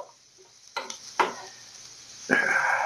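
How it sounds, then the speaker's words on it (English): Beef short ribs browning in a hot pan give soft sizzling and a few scraping stirs, close by. A steadier, louder sizzle builds near the end. "You only need to brown this for a few minutes."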